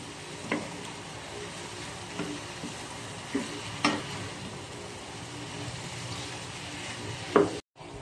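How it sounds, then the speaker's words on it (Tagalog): Vegetables and carabao meat being stirred in a pan, with a low steady sizzle and a handful of separate utensil scrapes and knocks spaced a second or so apart, nearby and without talk. "Haluin natin"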